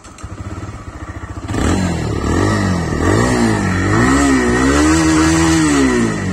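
A TVS Raider 125 motorcycle engine starts with a loud thump and then idles and revs close by, its pitch rising and falling in repeated swells, with one brief spoken word at the start.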